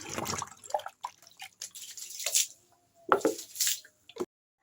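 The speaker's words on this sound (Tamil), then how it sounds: "இப்போ நல்ல தண்ணியில் வந்து ஊற்றி அலசிக்கலாம்" Clean water poured and splashed across a freshly soap-washed home floor to rinse it, bursts of close splashing and sloshing broken by short pauses and dripping.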